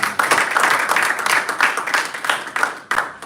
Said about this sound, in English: Please let us clap again for Toastmasters.